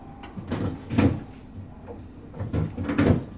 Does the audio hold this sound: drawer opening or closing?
yes